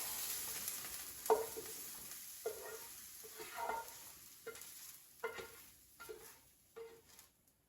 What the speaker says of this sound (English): now I'm going to turn off the heat and transfer the celery to the plate